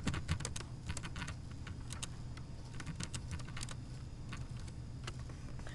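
Fast, close typing on a computer keyboard, a quiet, steady patter of individual key clicks with no speech.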